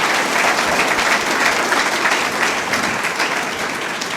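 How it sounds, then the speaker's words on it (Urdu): At a Pakistan Steel Cadet College event in Karachi, an audience gives the institution's leader a loud, sustained round of applause, a thick continuous clatter of many hands that eases slightly toward the end. "تالیاں ہونی چاہیے بھرپور۔"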